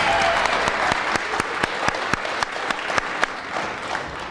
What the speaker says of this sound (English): I just want to give a quick round of applause to Sandra Burgette, the author of this book.